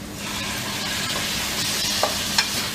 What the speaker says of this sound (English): Now add tomatoes.